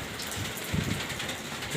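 Steady, even hiss of rain falling in Zhanaozen, western Kazakhstan, around 17:30, with a soft patter of drops on surfaces close by.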